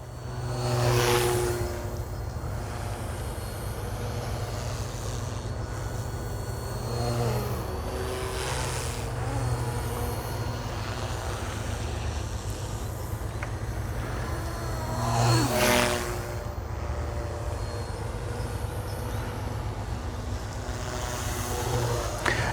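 An OMPHOBBY M2 V3 RC helicopter flies at low rotor RPM, giving a steady, soft whirring hum that holds throughout with gentle swells as it passes nearer.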